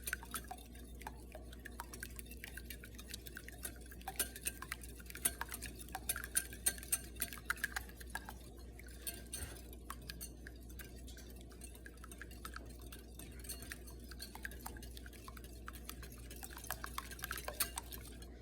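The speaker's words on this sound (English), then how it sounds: "So this is called beating your eggs." Egg white and yolk are beaten together in a bowl: a quick, continuous run of light clicks and taps from the utensil against the bowl, soft and close.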